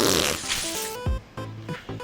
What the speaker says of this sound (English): he smiles and rips a massive fart